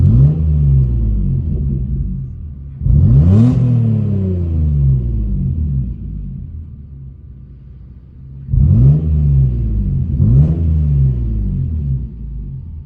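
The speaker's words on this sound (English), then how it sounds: "as I give the engine throttle" A car engine revs up repeatedly in a shop lab setting, with throttle blips rising and falling in pitch: one long rev early, then two quick revs near the end, each settling back to a steady idle rumble.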